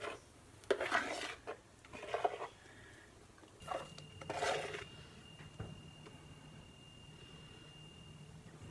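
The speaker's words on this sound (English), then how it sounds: "And then we put the meringues on top." A spoon scraping and dabbing meringue onto a lemon pie: several soft clinks and scrapes of the spoon against the dish, grouped in short bursts with quiet pauses between them, close and gentle.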